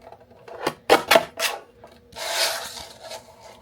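Scissors or a trimmer cutting leftover white paper for card-making: a few sharp close snips, then a longer soft rasping slide, with no talk.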